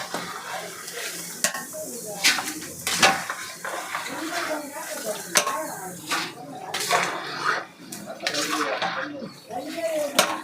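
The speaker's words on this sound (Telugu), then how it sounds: "విత్తనాలు మొత్తం వేస్తున్నానండి కేజీ శనక్కాయ విత్తనాలు ఇవి మొత్తం వేసేసాను" Peanuts roasting in a pan, stirred with clattering scrapes and rattles of nuts against metal over a soft sizzle, with brief bits of talk in between.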